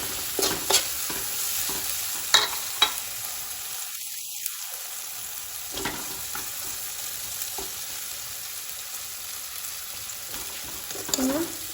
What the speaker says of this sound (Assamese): ফ্ৰাই হৈছে আৰু অকণমান বাকী আছে